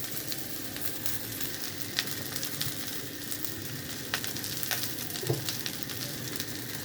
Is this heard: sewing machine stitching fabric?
no